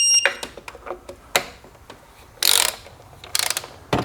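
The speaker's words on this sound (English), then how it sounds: "Now we need to torque the 6 fasteners holding down the intake." A torque wrench tightens the intake fasteners on a Nissan 3.5L V6 engine at about 5 foot-pounds, making several short bursts of sharp ratcheting clicks close by with pauses between strokes.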